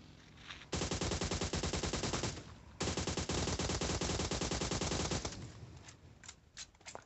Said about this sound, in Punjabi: ਕਿੰਨੀ ਜਲਦੀ ਗੋਲੀਆਂ ਮਾਰੂੰਗਾ ਬੰਦਿਆਂ ਦੇ